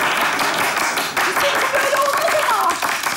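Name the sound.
audience clapping as a protest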